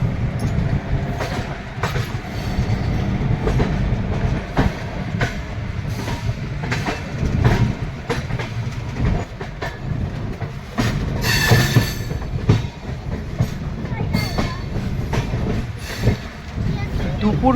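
Entering Jhansi station, the Chambal Express slowly crosses switches onto another track: uneven clacks and thumps of wheels over points, with bursts of high metallic squealing, while voices murmur faintly in the background.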